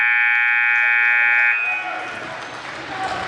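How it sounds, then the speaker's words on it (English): A loud, steady electronic hockey period-end buzzer drones for about a second and a half, then cuts off into crowd noise and cheering in a large arena. "There's the buzzer."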